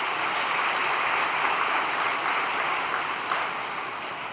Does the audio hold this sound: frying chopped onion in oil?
no